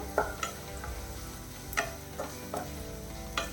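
Sweet potato curry thickened with gram flour sautés in a pan. A steady hissing sizzle runs beneath a few sharp spatula scrapes and taps, heard up close with no voices.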